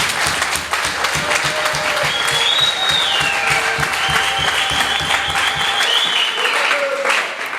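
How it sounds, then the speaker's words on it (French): Loud, sustained applause from a hall audience at a Kinshasa ceremony presenting certificates to a newly trained brigade, steady dense clapping filling the room until it fades out near the end. "Encouragez-vous et applaudissez d'abord."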